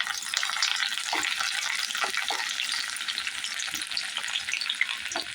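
Half an onion sizzles and fries in hot oil for an aubergine and potato curry, a steady dense crackle with a few soft stirring knocks throughout.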